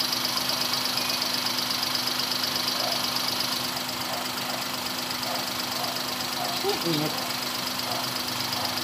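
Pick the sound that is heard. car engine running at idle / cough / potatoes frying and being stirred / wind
car engine running at idle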